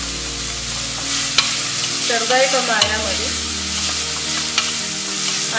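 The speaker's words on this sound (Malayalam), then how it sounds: "ആ ചിക്കൻ ക്യൂബ് ഒന്ന് ഉടച്ചു കൊടുക്കണം" A chicken stock cube being crushed and sautéed in a hot pan for oats shorba, an Arabic-style soup, makes a loud, continuous sizzle with stirring scrapes, and a voice speaks briefly over it.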